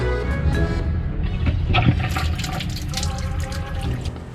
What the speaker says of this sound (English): Let me go bleed the pressure off the hot water, see if we can get that to stop